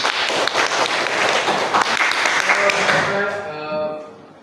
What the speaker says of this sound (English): Give applause to Alif